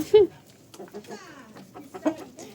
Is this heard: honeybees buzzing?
no